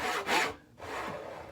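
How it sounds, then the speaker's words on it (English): Hand saw cutting wood in two close rasping strokes, a bright scratchy push and pull with a short pause between them. "Always let the saw do the work."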